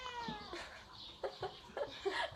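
Two cats competing over lickable cat treats give short, close meows and cries in quick succession, with a brief harmonic call at the start followed by several clipped bursts.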